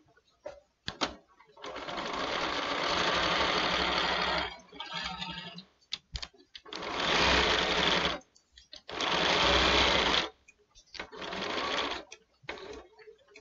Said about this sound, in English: now I'm going to stitch.